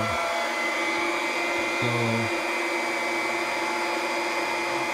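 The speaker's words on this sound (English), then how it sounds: "The transfer pump's a little loud" A transfer pump runs in a reverse osmosis system, giving off a loud, steady whining drone that fills the whole stretch, with a brief low hum partway through and a faint spoken word near the start.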